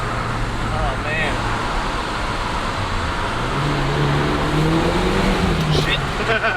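A Rocketbunny-kitted Nissan 180SX, rear-wheel drive, drifting in Japan, its engine droning steadily at moderate distance with rising pitch, mixed with road noise while people talk excitedly over it.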